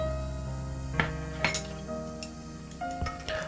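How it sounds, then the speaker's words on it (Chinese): Chopsticks stir dry flour mixed with sugar, salt, baking soda and yeast in a bowl, giving faint scattered clinks and taps against the bowl over a steady background hum, with no talk. "先用筷子将干粉混合均匀"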